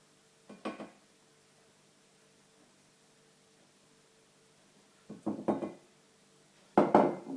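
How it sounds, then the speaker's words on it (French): A plastic spatula scrapes chocolate cake batter of butter, sugar and flour around a bowl in three short, quiet strokes separated by pauses. "à l'aide d'une spatule en plastique, on gratte le bol"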